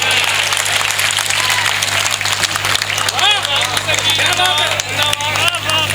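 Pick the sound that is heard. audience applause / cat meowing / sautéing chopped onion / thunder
audience applause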